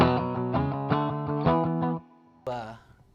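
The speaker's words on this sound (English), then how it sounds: "So now we're on a more distorted setting." Distorted electric guitar, a Les Paul, plays a run of chords with strong sustain and bright overtones, then rings out, and one final chord is struck and decays. Every note is loud and close, with no talk over it.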